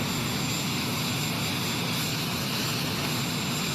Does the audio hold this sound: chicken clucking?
no